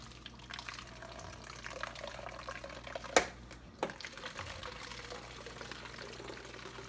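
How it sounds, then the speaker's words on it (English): Kombucha liquor drained from the spigot of a sun tea jug into a bottle: a quiet, steady trickle of pouring liquid with a couple of brief clinks near the middle, fairly close and with no talk. "The first thing he's going to do is drain some of the liquor off into the bottle."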